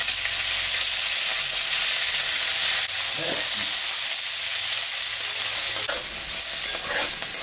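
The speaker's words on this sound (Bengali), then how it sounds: "বিনসটাও একটু ভাজে নেব।" Green beans fry in a pan during home cooking, giving a loud, steady sizzle throughout with a few soft stirring scrapes and knocks.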